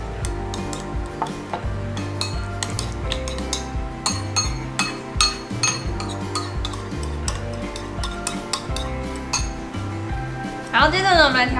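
Spoon stirring a sauce of mirin, vinegar and a little sesame oil with ginger in a bowl, a steady run of clinks and scraping taps against the dish, close and fairly loud over background music.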